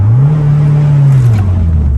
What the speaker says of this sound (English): I want to test the brakes before I test the acceleration.